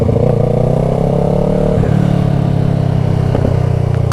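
Motorcycle engine on an A2-licence bike running loudly and steadily while riding, pitch easing slightly, with a few faint crackling pops near the end.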